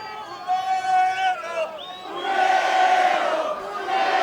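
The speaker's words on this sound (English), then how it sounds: "You can hear this crowd" A wrestling crowd in Mexico City roars at Kerry Morton during an NWA show, a loud swelling mass of shouts, jeers and chatter that dips briefly, then rises again into a sustained chanting din.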